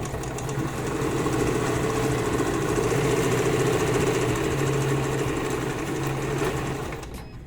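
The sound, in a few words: sewing machine stitching a flat-felled seam with backstitch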